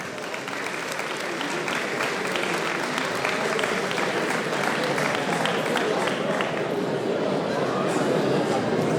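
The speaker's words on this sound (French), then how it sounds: "Allez, on peut l'applaudir bien fort." Crowd at a 10 km race prize-giving podium applauding loudly and continuously for a finisher, dense sustained clapping with some chatter underneath throughout.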